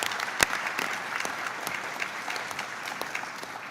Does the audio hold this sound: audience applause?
yes